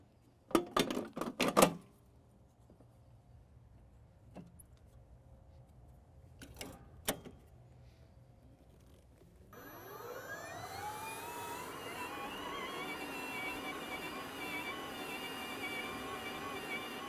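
An Allett lawn brush machine fitted with a brush cartridge starts with a few sharp clicks and knocks, then spins up into a rising whir that settles into a steady motorized hum.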